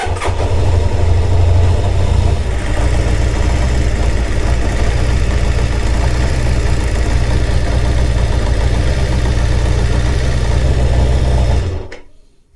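Kawasaki GPZ600R motorcycle engine, started after a year in storage, running with choke at a loud, steady, slightly uneven idle for about twelve seconds before cutting off abruptly; close, with no talking.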